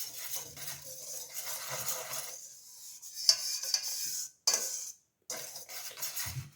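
A utensil scrapes and rubs around a salad bowl, stirring dry waffle ingredients together in a steady, faint, gritty swirl, with a few short pauses.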